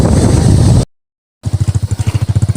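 A habal-habal motorcycle engine roars loudly up close, cuts out to silence for about half a second, then returns with a fast, throbbing pulse of revs.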